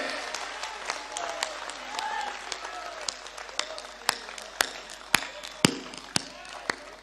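Scattered audience clapping at a Hindi kavi sammelan poetry recital, with a few sharp loud claps standing out over a thin patter and some voices in the background.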